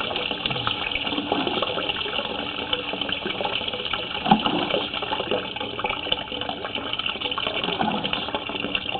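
Water runs through a house plumbing line as a steady muffled gushing hiss, continuous and fairly close, with faint knocks and small surges throughout and no clear talking.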